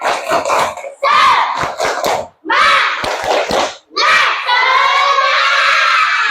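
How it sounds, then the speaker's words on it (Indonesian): Schoolchildren in a sixth-grade classroom clap and shout together in short bursts, loud and close, then break into sustained cheering and rhythmic clapping. "Tepuk tangan untuk kita semua."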